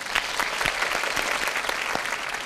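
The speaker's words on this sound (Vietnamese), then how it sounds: "Vỗ tay." Dense audience applause in a TV studio, a steady wash of many hands clapping, moderately loud and even for a couple of seconds.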